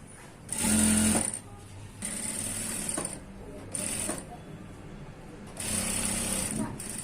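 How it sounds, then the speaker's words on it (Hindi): Sewing machine running continuous straight stitching on a one-piece dress, in four separate bursts of whirring with short pauses between, close and moderately loud. "पूरी सीधी सिलाई लगा देंगे।"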